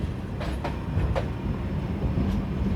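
Hyderabad Hisar Express rumbles past on the adjacent track during a crossing, a loud steady roar of rolling stock with a few rhythmic wheel clacks, heard from aboard a stopped train.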